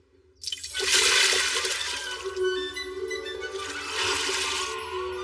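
A magic bucket in an anime scene releases a full, rushing gush of water that swells after a silent start, pours steadily for several seconds and surges again near the end, loud and close with no voices.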